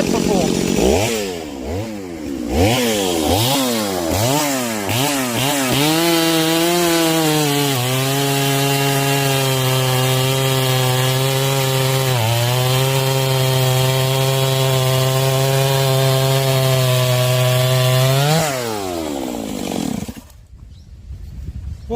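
A chainsaw fitted with full chisel chain revs up in a few rising and falling bursts, then bites steadily through wood in one long, loud, close cut with its pitch dipping under load before it winds down and stops.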